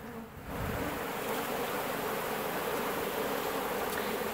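Dense swarm of honeybees around a hive being removed from an abandoned house, a continuous close, loud buzzing drone that swells in after a brief quieter moment.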